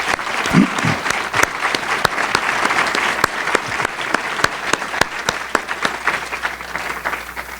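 A lecture-hall audience at a speakers forum applauds steadily for a presenter, a dense, even patter of many hands clapping at moderate loudness throughout, with a brief low voice near the start.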